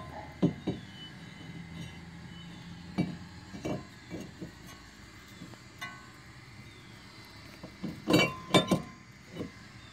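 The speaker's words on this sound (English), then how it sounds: "Next is to reinstall the rotor." A brake rotor is refitted onto the front wheel hub of a 2006 Saturn Vue, producing faint, scattered metallic clinks and knocks at irregular intervals against a quiet workshop background.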